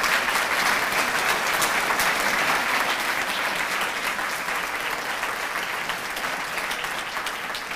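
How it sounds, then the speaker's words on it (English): An audience at a high school graduation ceremony claps continuously, a dense, even wash of applause lasting several seconds with no voices above it. "and a round of applause now."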